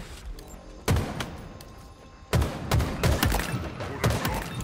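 Bursts of gunfire in Halo Infinite, a sharp volley near the one-second mark and then a rapid string of loud shots with thuds through the second half, no talking.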